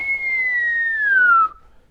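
A human voice imitates the whistle of incoming artillery bombs, producing one steady, loud whistle that slowly falls in pitch and then cuts off abruptly.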